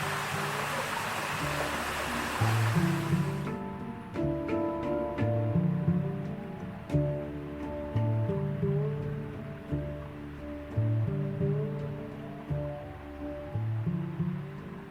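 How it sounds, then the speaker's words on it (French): A waterfall cascades into a pool during a canyoning descent on the Bendola, a dense rushing roar for a few seconds before it cuts off and plucked, tuneful music carries on alone. "On a une belle cascade à descendre, bien arrosée, avec un bief, un beau bief en bas."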